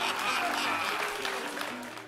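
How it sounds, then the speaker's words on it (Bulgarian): Studio audience applause at a live television comedy show during a card magic trick, a steady broad clatter of clapping holding for about two seconds and easing slightly toward the end. "Аплодисменти."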